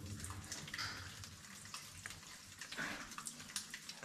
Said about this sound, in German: Hier hinten haben wir so das Wasser plätschern hören.